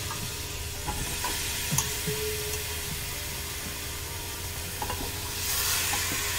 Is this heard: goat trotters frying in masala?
yes